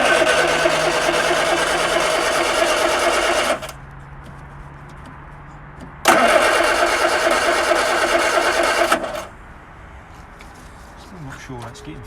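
A 1964 Vauxhall HA Viva engine cranks in bursts with the choke pulled, pauses, then cranks again and catches, running loud and close before dropping to a quieter idle, with voices talking throughout.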